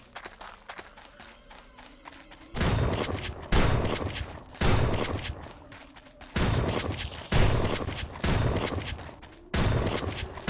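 A shotgun fires in the video game 7 Days to Die, as a series of loud, sharp blasts spaced roughly a second apart, each with a short decaying tail, after quieter shuffling movement at the start.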